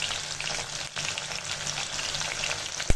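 Garlic and cumin paste fries with onions in a pan for chola bhuna, a dense, steady sizzle with a soft stirring knock near the end.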